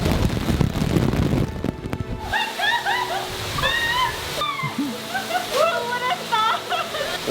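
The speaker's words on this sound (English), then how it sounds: "I didn't expect this much rain, but I guess we're going in" Heavy rain pouring down in East Java, a dense continuous hiss of falling water, with people talking and calling out excitedly over it.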